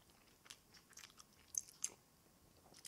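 Timbits doughnut holes being chewed close up, faint soft crunches and mouth sounds in a quiet room, several small bites in irregular rhythm.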